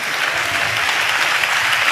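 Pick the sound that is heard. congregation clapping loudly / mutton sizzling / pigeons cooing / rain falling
congregation clapping loudly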